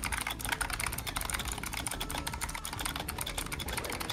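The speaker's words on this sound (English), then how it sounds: "Yes, I have a loud keyboard." Rapid, steady clacking of a loud mechanical computer keyboard being typed on close by, keystrokes dense and continuous with no talk.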